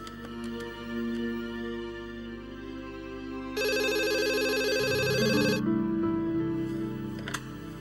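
A telephone ringtone sounds in an Indonesian family drama, a bright electronic ringing that lasts about two seconds in the middle, over steady background music and room tone.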